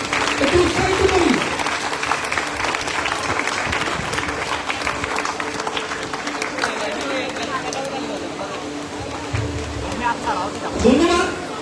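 An audience claps at a national biology olympiad award ceremony in Bangladesh, a sustained round of applause from a crowd with loud voices over it at the start and end.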